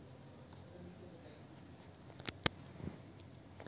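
A few faint computer mouse clicks sound while someone clicks a search bar, sparse and quiet over low room noise.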